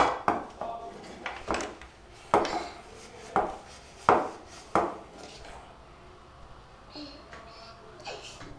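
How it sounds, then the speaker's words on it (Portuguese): Dishes, pots and cutlery clinking and knocking during dishwashing, a series of sharp irregular clatters and thuds close by, with a child and an adult talking in the background. "eu tô lavando louça com você, né?"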